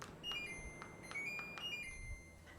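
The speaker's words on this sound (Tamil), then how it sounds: "ஸோ நான் ஏசியை வந்து கம்ப்ளீட்டாக ஸ்டாப் பண்ணுறேன்." An air conditioner gives a short series of thin electronic beeps as it is switched off, faint and steady over a quiet room hum.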